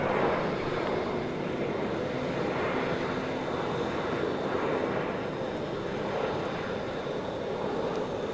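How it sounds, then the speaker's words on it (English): A steady, low roar of an airplane flying overhead, broad and rumbling, holding at a constant level throughout with no talking. "Just listen to the airplane sounds"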